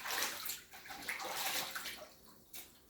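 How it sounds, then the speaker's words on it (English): Running water splashes over hands being washed at a kitchen tap, a close, steady rush with small shifts in the flow as the hands move. "Let me wash my hands."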